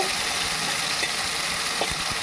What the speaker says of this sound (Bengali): তার মধ্যে কালো জিরে ফোড়ন দিয়ে